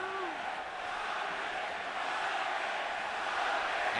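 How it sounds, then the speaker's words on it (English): A large boxing-arena crowd at the third Pacquiao–Marquez fight chants for Pacquiao, a dense, steady roar of many voices at a distance that holds level throughout, with faint rhythmic shouting inside it. "And now the crowd begins to chant for Pacquiao."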